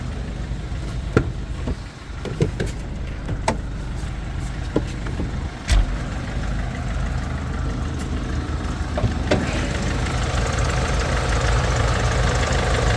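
The diesel engine of a 2013 Mercedes Sprinter 316 van idles steadily at close range, a low rough rumble with faint knocking, running continuously with a few clicks and bumps.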